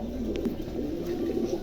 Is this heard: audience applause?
no